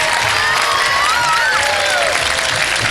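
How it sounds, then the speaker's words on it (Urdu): A studio audience on a live Pakistani television show applauds and cheers, a dense, continuous wash of clapping with a few voices rising above it, loud and close throughout. "بھرپور تالیاں بجا دیجئے جناب۔"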